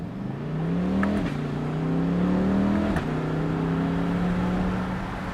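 A C8 Corvette pulls hard at full throttle, its engine note climbing in pitch through two quick upshifts, loud and steady from inside or near the car, without talk.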